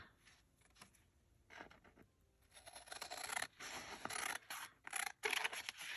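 Scissors snip through paper and card stock while trimming a journal card, a run of close, crisp cuts and rustling scrapes that grow louder and denser toward the end, with no voices.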